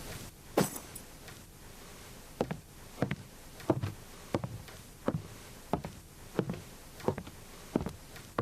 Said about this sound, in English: Very long period of, like, footsteps.